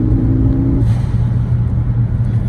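A car engine with a loud, turned-down aftermarket exhaust rumbles at idle with a deep drone, rising briefly then settling into a steady low growl close by.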